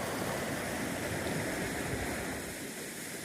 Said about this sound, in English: Look at this beautiful river called Falls Creek.